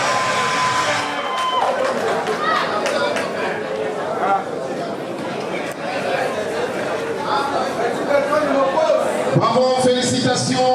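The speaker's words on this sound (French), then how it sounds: "les applaudissements s'il vous plaît" A nightclub audience at a barman show erupts in loud, sustained cheering and shouting, with crowd chatter and whoops blending into a dense roar that stays strong throughout.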